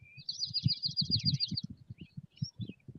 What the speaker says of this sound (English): The birds are always happy.